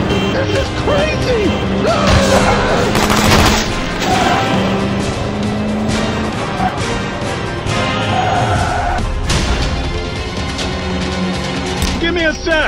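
Video game gunfire and crashing impacts in the zombie shooter Road of the Dead 2, with bursts of shots and booms over continuous game noise and voiced character callouts.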